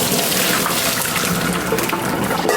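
Pasta water pours out as cooked pasta is strained, a loud continuous gushing splash of liquid rushing close by without pause.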